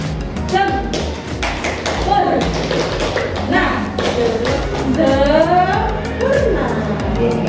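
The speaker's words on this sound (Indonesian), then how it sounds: "Nah, tepuknya adalah tepuk sempurna" A group at a teachers' workshop claps a rhythmic patterned cheer in crisp, steady beats that sound close and loud, with voices chanting along over the clapping.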